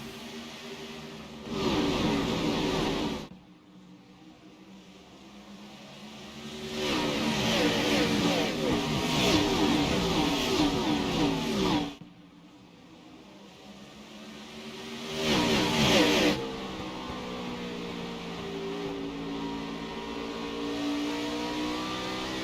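Race cars accelerate off the start of a Saturday Night Thunder race at a short oval, their engines swelling and fading in several loud revving passes, with a pitch-sweeping engine drone continuing after. A commentator's voice is heard alongside the engines.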